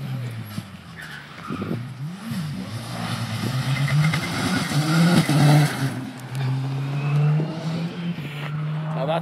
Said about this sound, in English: That's a newly developed Darien, and that has an R5 1600 turbo engine in it.